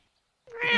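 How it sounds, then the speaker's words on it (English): A cat gives a single short, close meow that starts abruptly after a brief silence and rises in pitch. "You say fish, and they all start to meow."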